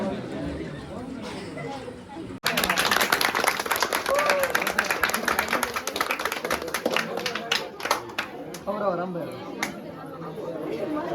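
Guests at a village engagement gathering in Gujarat burst into loud, close clapping that continues for several seconds amid lively chatter and overlapping voices.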